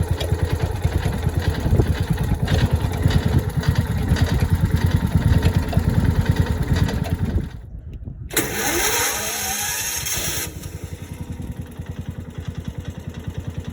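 A John Deere 1200A engine running lean runs steadily with a loose belt flopping, then briefly cuts out and picks back up with a brighter roar, close and loud throughout.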